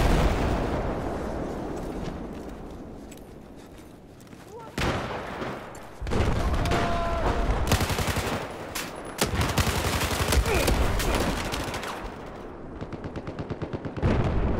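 Dense gunfire and fusillade bursts from Battlefield 4 Conquest multiplayer on Xbox One, with repeated loud automatic volleys and explosions that swell and break off across the span, and a voice talking over parts of it.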